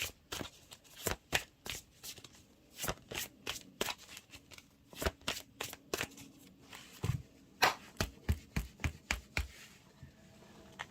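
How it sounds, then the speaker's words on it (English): First Light Tarot cards being shuffled by hand, a close run of crisp riffling slaps in quick irregular bursts, repeating steadily for about ten seconds with no voices. "pull a card from the First Light Tarot."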